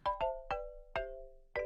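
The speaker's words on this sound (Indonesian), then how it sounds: "ringtone handphonenya iPhone kalau pagi-pagi" Marimba notes in the style of an iPhone morning ringtone: five bright mallet strikes in an uneven rhythm, each ringing briefly and fading, close and clear with no voices.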